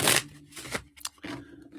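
A deck of reading cards being shuffled by hand during a live card-reading session: a few short, papery riffling bursts with brief pauses between them, close and fairly soft, with no voice over them.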